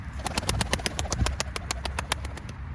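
Pet pigeons descend toward their loft, a quick run of flapping wingbeats and fluttering pulses close by, with a faint low coo and background hum.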